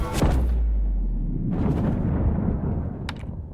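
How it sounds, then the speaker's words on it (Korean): A castle blows up in the video game Wander Burg: a heavy booming blast with a deep rumble, then a crackling, roaring wash of debris and a sharp snap near the end, loud and continuous. "성폭발."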